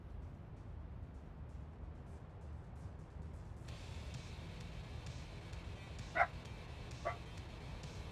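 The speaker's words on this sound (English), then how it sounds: "little dogs still do the big dog barking thing" A small dog barks twice in sharp, brief yips, faint and somewhat distant over a steady low background hum.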